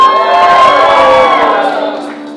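An audience at a Latinx poetry and spoken-word event cheers and whoops loudly in one sustained roar that fades slightly toward the end.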